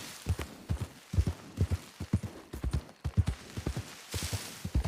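Horse hooves clip-clop in a steady walking rhythm, fairly soft and moderately close, with no voices over them.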